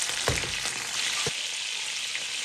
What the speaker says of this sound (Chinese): 排骨刚放入锅中，不要着急的去翻动，像这样慢慢的晃动锅